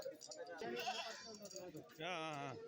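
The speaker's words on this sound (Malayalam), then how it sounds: "എല്ലാം മുട്ടനാട് തന്നെയാണ്" Young male goat kids bleat at a livestock market in several wavering cries, close and fairly loud, with other sounds of the market under them.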